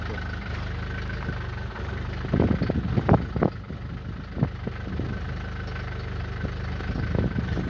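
A shaking, vibrating car engine idles in a steady low drone, with a few clanks and knocks rising briefly above the hum.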